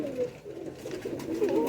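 Rare breed pigeons cooing softly, a few low rolling coos close by over faint background noise.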